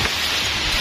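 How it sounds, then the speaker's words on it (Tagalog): Steady, dense rain falls on a surface as a storm approaches, a continuous broadband hiss with no voices, heard up close for under a second. "Inabutan kami ng ulan."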